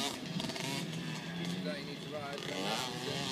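A two-stroke pit bike engine revs on a dirt track, a buzzing, warbling drone that rises and falls at moderate distance, fairly faint, with talk mixed in.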